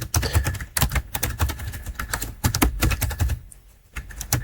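Fast, uneven clacking keystrokes on a computer keyboard while entering an enable password, close and crisp, with a short pause near the end before the typing resumes.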